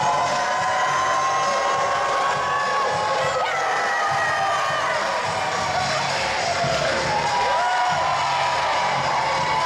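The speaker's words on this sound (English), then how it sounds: "This audience was an amazing audience. Hear the noise just coming off them, reacting to Scotty." A live wrestling crowd at a KAPOW Wrestling show roars steadily for Scotty 2 Hotty, a continuous wash of cheering and shouting voices with whoops rising above it throughout.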